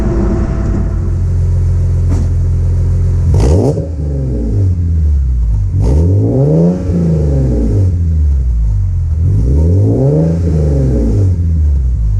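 A BMW E46 M3 with a newly fitted exhaust idles with a deep rumble, then is revved hard three times, each rev a loud, rising and falling roar close to the car.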